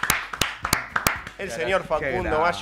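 A handful of sharp, separate claps welcome a guest on a Twitch talk show, fairly close and fading within about a second, before a voice takes over.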